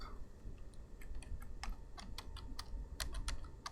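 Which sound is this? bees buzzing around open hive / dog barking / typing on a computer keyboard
typing on a computer keyboard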